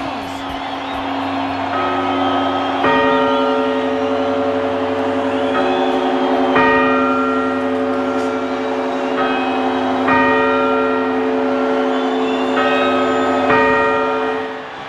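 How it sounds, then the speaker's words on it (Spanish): Church bells ring out the quarter chimes ahead of the New Year's strokes in Plentzia, a series of loud, resonant struck tones that sound one after another, each one left to ring on into a sustained hum. "Las campanadas."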